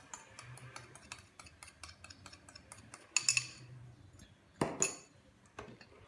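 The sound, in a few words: stirring red velvet cake batter in a bowl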